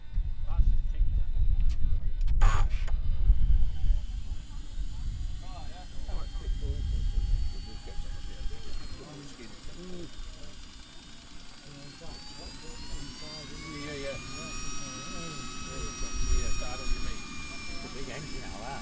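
Kingtech 320 turbine jet engine on a Tomahawk Futura v3 model jet at its maiden flight, a loud low roar up close giving way to a rising, whining turbine tone with howling overtones as it spools and passes, with some talk at the start.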